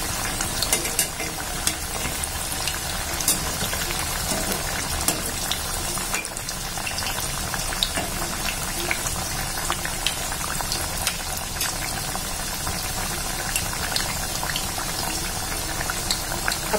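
Alu vadi, colocasia leaf rolls, deep-frying in hot oil until golden brown, giving a dense, continuous bubbling sizzle that stays steady and fairly loud throughout, with no talking.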